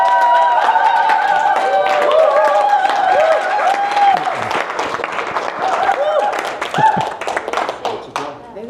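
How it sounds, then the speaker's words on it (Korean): An audience claps at a Korean patent law firm presentation, a continuous wash of hands with a sustained musical tone over it that fades midway. "여러분 뜨거운 박수 부탁드리겠습니다."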